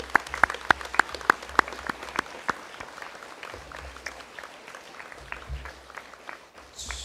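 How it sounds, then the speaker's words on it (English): Audience applause at a junior school celebration of learning: a burst of sharp, close individual claps that soon thins into scattered, fainter clapping across the hall. "Let's give Mr. McMaster a big round of applause."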